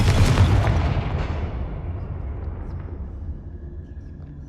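A Confringo blasting spell detonates in the video game Hogwarts Legacy, a loud booming burst at the start that rolls and fades into a long, diminishing rumble.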